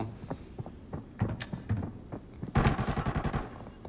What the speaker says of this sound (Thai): เสียงปืนด้านนอกนะ